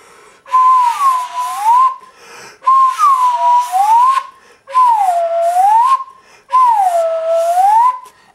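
Four loud, close whistle blasts from a paper slide whistle, each dipping and rising in pitch like a swoop, separated by brief silences.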